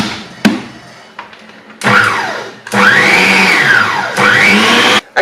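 Electric mixer beating superfine icing sugar into a carrot cake mixture in a bowl, loud whirring run in several bursts with rising and falling pitch sweeps as the beaters work, separated by short pauses, alone without talk.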